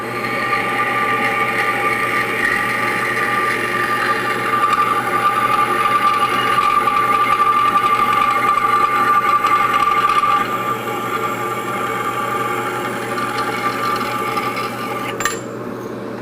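A new saw cutting through a piece of aluminum at high RPM: a loud, sustained, whining grind with a rasping edge that holds steady, then eases and stops near the end.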